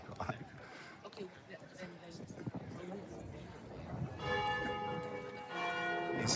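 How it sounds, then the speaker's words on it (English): Church bells ring out in Modena, their sustained tonal strikes swelling in the latter half over busy street ambience, with people talking throughout. "These bells are always ringing."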